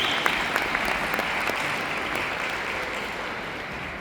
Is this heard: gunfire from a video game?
no